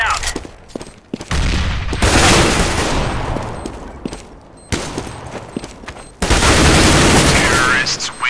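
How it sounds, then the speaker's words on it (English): Grenade blasts and bursts of gunfire in the game CS:GO, loud broadband booms with rapid shots in several dense bursts and brief gaps, close and intense. "two of them nades did just hit him then, didn't they?"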